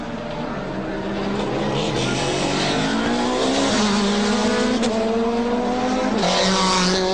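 Touring race cars, including a Renault Mégane and a BMW, battle on a circuit, their engines droning loudly and continuously with rising and falling pitch as they accelerate and shift through the pack.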